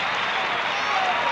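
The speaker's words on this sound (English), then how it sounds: "gets a nice round of applause as he exits with 12 points" Crowd applause at a 1982 NBA basketball game, Atlanta Hawks at Seattle SuperSonics in the arena: a broad, sustained wash of clapping from a large audience lasting the whole moment, with commentary voices likely mixed in.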